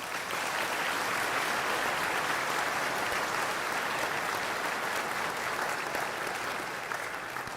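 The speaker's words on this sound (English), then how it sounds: "A big round of applause." Steady, full applause from a seated audience at a veterinary college's professional welcome ceremony, continuous and even for about eight seconds with no talk over it.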